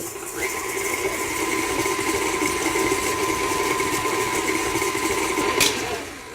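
An electric mixer creams butter and sugar for pineapple upside-down cake batter, a steady, continuous motor whir at even loudness throughout, with no talking.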